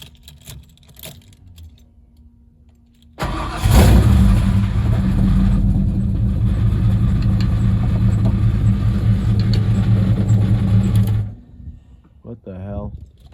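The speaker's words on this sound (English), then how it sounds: "So now I'm just gonna start it up and see if we can get it going." A Foxbody Mustang engine cranks and fires, then idles loudly and steadily for about eight seconds before being shut off, with a faint voice after it stops.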